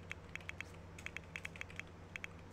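Fingers type a command on a computer keyboard, about a dozen crisp, light key clicks in quick irregular bursts, close by and fairly quiet over a faint steady hum.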